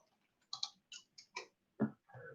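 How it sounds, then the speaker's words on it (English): Typing one-handed on a computer keyboard: a few sparse, irregular key clicks, close and quiet, with short gaps between presses. "it's weird typing with one hand"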